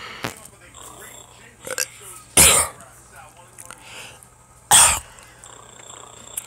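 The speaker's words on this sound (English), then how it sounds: "if I'm coughing, it's just that I have something in my throat" Two sharp, loud coughs stand out a couple of seconds apart, with quieter throat noises and faint murmuring in between.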